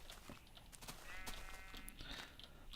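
A single drawn-out sheep bleat in Minecraft, faint and fairly close, with soft footstep crunches and clicks around it.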